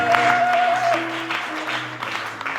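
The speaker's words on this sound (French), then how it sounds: "Nous accompagnons par les acclamations" Applause from an assembled audience at a French-language memorial ceremony, a moderate wash of clapping carrying on steadily with a sustained tone over it.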